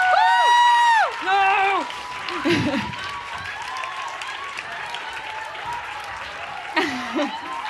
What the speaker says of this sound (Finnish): Annetaan vielä kerran hurjat aplodit ja kiitokset vielä voittajille kaikille